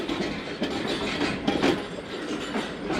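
Karakoram Express passenger train running between Faisalabad and Khanewal, heard from inside an AC business coach: a steady rumbling roar with faint rhythmic wheel clatter, continuous and fairly close, no voices.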